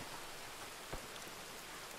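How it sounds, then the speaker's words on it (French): Steady rain falls in a video game, a dense, even hiss of drops filling the whole stretch with one brief thud in the middle and no voices. "En plus il pleut alors je vois rien avec la pluie."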